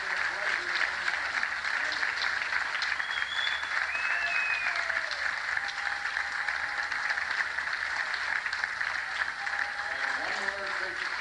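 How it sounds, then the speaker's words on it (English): A stage revue audience at the Danbury State Fair claps and cheers loudly and continuously, with a faint voice and whistles mixed into the ovation. "one more big cheer for the great Danbury State Fair Revue"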